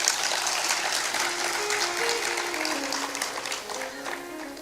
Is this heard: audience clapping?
yes